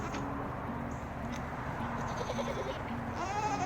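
Goats on a homestead bleat faintly a few times against steady background noise, with chickens nearby and a low murmur of activity throughout.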